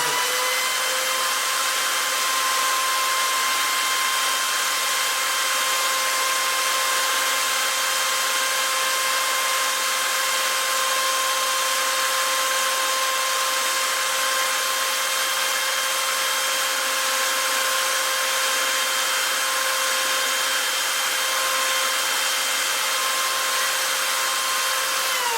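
A steady, continuous power-tool whine with a constant tone runs unbroken throughout, close and fairly loud, like a drill spinning while sanding wood.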